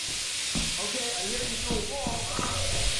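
Steam hissing from a valve in the video game Lethal Company, a steady broadband hiss filling the whole clip under a voice talking.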